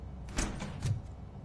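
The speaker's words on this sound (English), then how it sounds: "Now let me get that door open for you." A door slides open in the RoboCop Rogue City video game with a short, quiet mechanical whoosh in a few pulses over low background hum.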